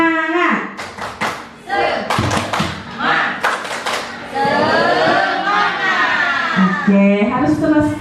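An audience performs a rhythmic 'tepuk semangat' cheer clap at a daytime gathering, sharp patterned bursts of claps mixed with voices chanting along, loud and close.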